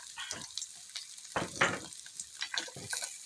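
Fried fish flakes being stirred in a pan for ginataang sayote with malunggay, in a provincial home kitchen: a few scraping, sizzling strokes come in short bursts, close and clear, with no talking.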